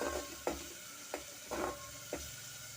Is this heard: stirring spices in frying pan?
yes